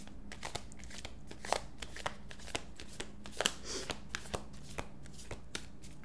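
Playing cards are shuffled repeatedly, close up, with crisp riffling flutters and soft taps between shuffles; no one speaks.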